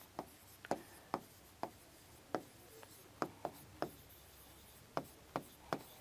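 Chalk or marker tapping and stroking on a board while a civics lesson on parliament is written out, a quiet, irregular series of about a dozen short sharp knocks close by, with no voice over them.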